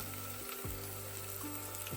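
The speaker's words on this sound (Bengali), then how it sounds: "পেঁয়াজ সুন্দর করে ভাজা হয়ে গেছে এরপর মাটনটা দিয়ে দেব" Mutton and onions fry in a pan with a soft, steady sizzle and crackle, faint and continuous with a few light stirring scrapes and no voices.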